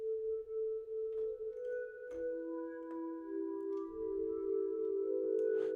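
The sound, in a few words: polyphonic synthesizer playing pad with sine wave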